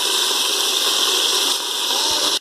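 Half a kilo of beef fries with browned onions in a pan, producing a loud, steady sizzling hiss with no breaks.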